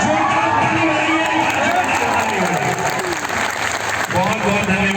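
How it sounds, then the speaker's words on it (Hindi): Loud, continuous applause and cheering from a crowd of students at a quiz centre in Sasaram, with whoops and shouts mixed into the clapping throughout, close and dense. "जोरदार ताली बजाइए।"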